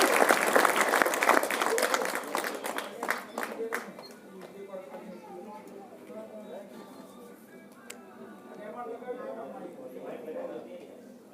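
Audience at a mind-power training seminar clapping, loud dense applause with distinct rhythmic claps at first, fading after a few seconds into someone talking over faint crowd noise.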